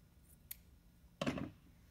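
Scissors snip through wreath ribbon close by, a faint tick followed by one quick, crisp cut lasting a fraction of a second in a quiet room.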